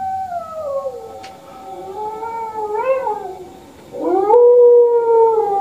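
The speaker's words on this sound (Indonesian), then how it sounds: "Dalam gelap yang samar-samar, saya melihat gonggongan anjing." A dog howls in long, wavering, rising and falling cries, several drawn-out wails in a row, loud and close with no talk over them.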